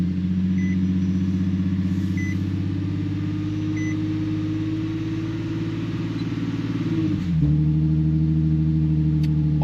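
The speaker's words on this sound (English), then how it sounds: "So I'm going to turn the car on." An Infiniti G37 / Nissan 370Z engine runs at a steady, slightly raised idle, a constant low hum close by with faint beeps, then the revs drop noticeably as the idle settles lower near the end.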